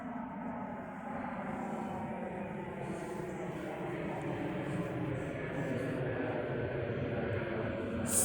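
Aer Lingus airliner passing overhead near a railway line, a steady broadband engine roar that swells gradually and holds loud throughout, with a few faint higher tones and no pause.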